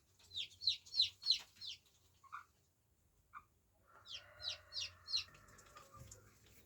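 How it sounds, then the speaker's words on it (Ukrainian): Ducklings peep nearby in quick high-pitched runs of four or five calls, with a few softer chirps between the bursts. "Це мої каченята"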